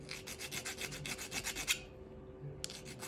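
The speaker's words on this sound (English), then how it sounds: "I'm just kind of scraping the sides of the penny." A metal file rasps back and forth across the edge of a copper penny in quick, regular strokes for about two seconds, then pauses before one last short scrape, close and fairly quiet.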